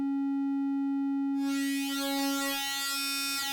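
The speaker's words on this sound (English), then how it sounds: "that metalizer, it adds some harmonics and some edginess, is what the manual calls it, to that triangle wave" An Arturia PolyBrute 12 synthesizer plays a sustained triangle wave that is pure and steady at first, then the metalizer is engaged and the tone becomes bright, edgy and harmonically rich with a sweeping shimmer. No voices are heard.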